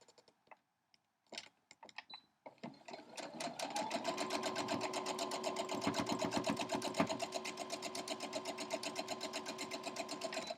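Sewing a straight line on a quilt block, a sewing machine starts after a few clicks and stutters, then settles into a steady, rapid, close stitching rhythm that runs alone for several seconds.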